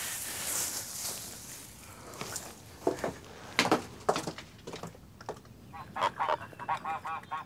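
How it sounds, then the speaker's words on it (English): Geese honk in scattered bursts, some close and some farther off, over a quiet rustling outdoor background, as they settle and feed in a stubble field. "Up in the stubble field, the geese are settling in, gobbling up any leftovers on the ground."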